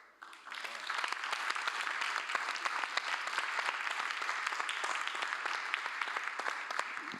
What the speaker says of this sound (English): a big round of applause for Ron and our students